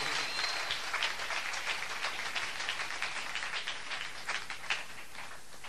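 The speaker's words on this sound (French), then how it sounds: "Est-ce que nous pouvons acclamer pour la parole de Dieu?" A church congregation applauds and cheers for the word of God, dense clapping filling the room continuously at moderate volume without pause.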